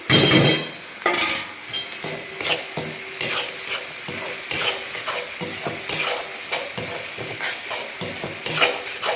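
Ginger sautéing in a pan while a spoon stirs it steadily, giving a continuous close sizzle with repeated scraping and clinking strokes throughout, and no voices.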